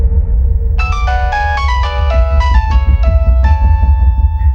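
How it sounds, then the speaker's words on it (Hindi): A mobile phone ringtone plays a bright, repeating electronic melody of quick descending notes, loud and close over a low rumbling background bed, continuing without pause. "ये बार बार किसका फोन आ रहा है बेटा?"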